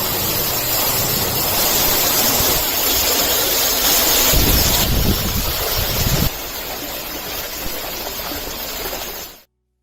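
A fountain's continuous splashing water, a steady broadband rush that stays loud and even for nearly ten seconds before cutting off abruptly.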